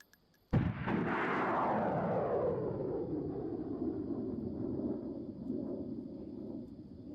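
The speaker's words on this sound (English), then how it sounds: "It's anti-aircraft missile." An anti-aircraft missile from an airborne mod in a video game detonates in one loud, sudden blast, followed by a long rolling rumble that slowly fades over several seconds, with no talking.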